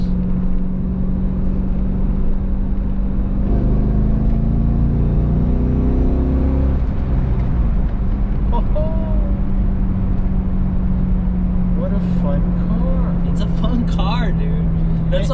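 A Chevrolet C5 Corvette drives along, its engine droning steadily with rising and falling pitch as it accelerates, while people talk inside the car over the exhaust.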